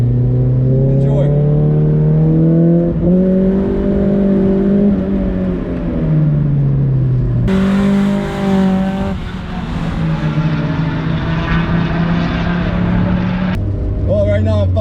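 A Mazda MX-5 Miata laps a race track with its engine heard from inside, rising and falling through the gears under steady load, loud and continuous, with brief shift breaks between pulls.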